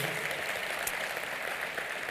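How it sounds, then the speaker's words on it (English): An audience at a Hall of Fame induction ceremony applauds, a continuous wash of many hands clapping at a steady level throughout. "Let's give it another round of applause, please, for incredible work, 30 years"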